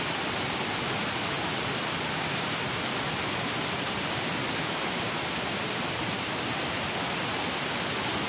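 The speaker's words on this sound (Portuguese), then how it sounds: "o barulho da água é bem forte" Steady, loud rushing water roars continuously without a break, a dense broadband wash as water pours over the Araras dam spillway in Varjota, Ceará.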